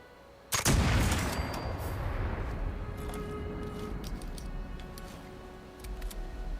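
A single loud gunshot rings out in the video game Fallout 76, followed by a long rumbling decay with scattered light ticks and clicks afterward and no speech.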